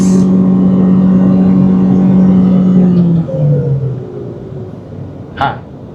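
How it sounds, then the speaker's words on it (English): A Proton Saga 1.5-iGT Premium car engine holds a loud, steady full-throttle drone for about three seconds, then the pitch drops and the sound eases off, ending with a brief sharp knock. "In 3, 2, 1, full throttle."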